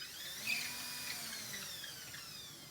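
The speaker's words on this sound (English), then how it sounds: "I'm just going to ream it out just a little bit just to be sure" A power drill reams a hole out to 5/16 inch while installing a Samsung R650 soundbar, a steady high whine running throughout at moderate, fairly faint level with a brief louder bite near the start.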